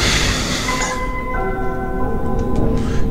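A chiming bell melody from the video game Oddworld rings out as a few clear, sustained tones over a low rumbling background, with no talking.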